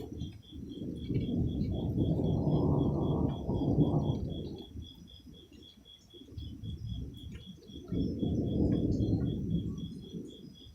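Deep thunder from an electrical storm rolls in two long rumbling swells, with a quieter lull between them, while insects chirp steadily and faintly in the background.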